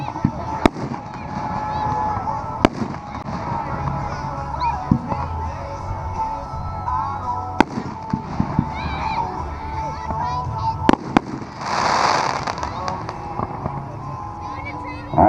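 Consumer firework cakes fire a rapid string of sharp, hard-hitting thumps and crackling bursts at a night demo, with sharp report spikes rising over a constant rumble of crowd noise and chatter.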